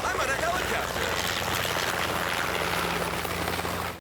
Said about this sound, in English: I'm on a helicopter.